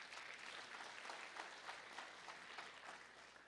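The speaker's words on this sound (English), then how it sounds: "he deserves a big round of applause." Steady round of audience applause at a live meet-and-greet event, many hands clapping evenly at a distance, faint and sustained without voices.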